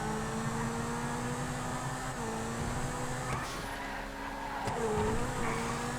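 Zentorno supercar in a GTA FiveM street race, engine droning steadily at high pitch with brief dips as it shifts gears, loud and continuous throughout.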